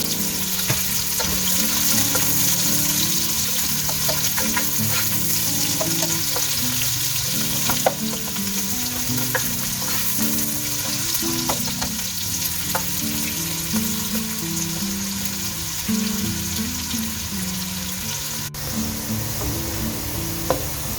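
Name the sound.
onions frying in a pan for qeema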